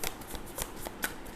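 Tarot cards shuffled by hand, a quick close riffle of rustling, flicking card edges over about a second and a half.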